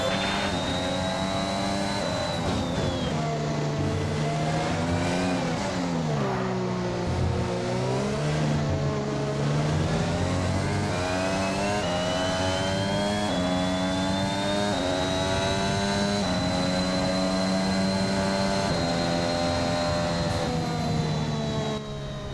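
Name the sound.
Formula 1 race car engine in F1 video game, career mode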